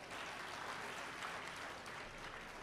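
An audience at a Tamil-language evening gathering claps steadily, a dense, even wash of applause filling the whole stretch with no voices over it.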